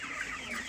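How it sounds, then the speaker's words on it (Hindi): A large rooster clucks briefly at close range, a short low throaty sound with no talk over it. "तनी देखो बड़का मुर्गा"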